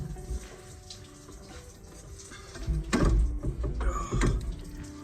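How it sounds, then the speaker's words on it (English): Coolant leaks from the water pump area of a Chevy Silverado, splashing and trickling in irregular bursts alongside faint clinks of metal, close and moderately quiet. "And I'm leaking coolant like crazy."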